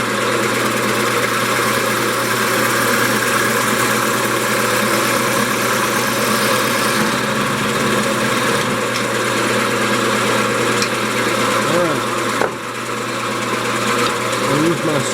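A wood lathe spins a workpiece while a skew chisel squares off its end, giving a steady, loud motor hum with faint scraping from the cutting edge riding on top.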